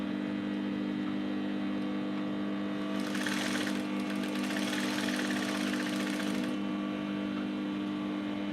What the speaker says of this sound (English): So I'm going to start stitching it from the down.